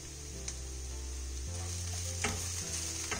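Bitter gourd fry with chili powder is stirred in a hot pan, a steady sizzle beneath a low humming tone, with a few scraping clicks of the spatula.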